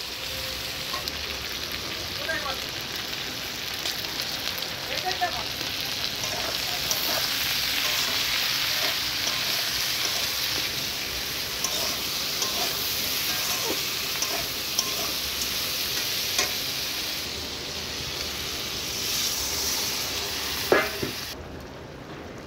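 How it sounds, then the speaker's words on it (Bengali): Meat simmering for Tojo alongside a pot of vegetable chorchori, giving a steady, dense sizzle and bubbling that runs without a break, with a few faint clinks near the end. "আর এই যে মাংসটা ফুটে যাচ্ছে তোজোবাবুর, আর এদিকে চচ্চড়িটাও বসিয়ে দিয়েছি"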